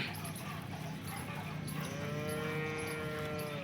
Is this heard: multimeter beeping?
no